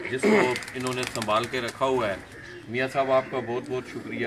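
Lakha pigeons coo softly in repeated throaty bursts while someone talks over them close by, the birds' calls mixing with his steady speech.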